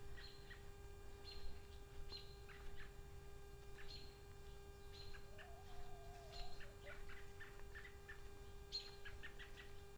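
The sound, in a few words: birds chirping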